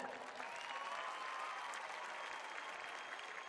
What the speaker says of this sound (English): we'll give you a big round of applause when you come down here